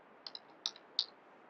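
Someone types on a computer keyboard in a quiet office, with a few faint, sharp clicks spaced irregularly over about a second.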